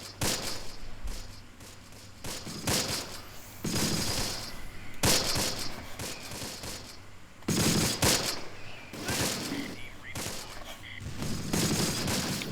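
Rapid machine-gun bursts and scattered rifle shots crackle through a Close Combat night battle, dense overlapping volleys rising and falling in intensity with occasional heavier booms.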